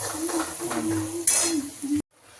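Butter or cream simmering into ghee in a pot on a gas stove, a steady close sizzle with bubbling crackle and a brief clink of a utensil, cutting off abruptly near the end.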